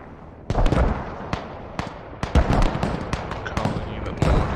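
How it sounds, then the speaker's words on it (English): Mortar fire and direct hits in a large 50-versus-50 infantry battle video game, rapid repeated booming blasts and sharp cracks layered densely over a continuous rumble, loud and close. "Squads with mortars, direct hits, with mortars, keep shooting, direct hits."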